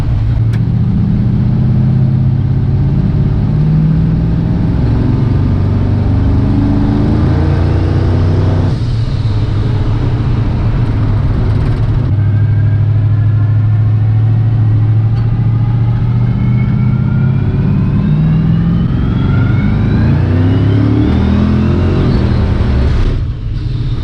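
A twin-turbo Mustang with an LS engine swap driving on the road: a loud, steady engine drone that rises and falls through several revving gear pulls, close inside the car, with no talking.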